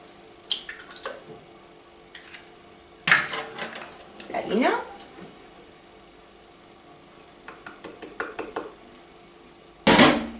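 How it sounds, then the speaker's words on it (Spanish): Eggs cracked into a bowl for crepe batter: a few sharp taps and wet splats in separate bursts at close range, separated by quiet pauses. "Y tan sencillo, echamos los huevos."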